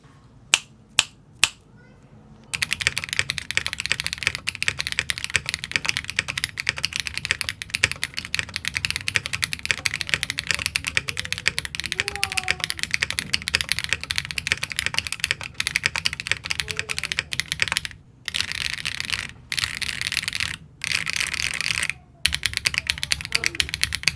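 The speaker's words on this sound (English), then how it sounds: "Here's a typing test with the pool noodle PCB." A few sharp clicks, then rapid, steady clacking of keys on a Mirror 98 mechanical keyboard with a pool noodle PCB, no foams and no plate, close and crisp, with brief pauses between bursts.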